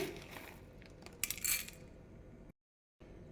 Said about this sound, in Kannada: ಒಂದು ಪ್ಲೇಟ್ಗೆ ಒಂದು ಮೂರು ಟೇಬಲ್ ಸ್ಪೂನ್ ಆಗೋವಷ್ಟು ಧನಿಯಾ ಕಾಳನ್ನ ಹಾಕ್ಕೊಳ್ಳಿ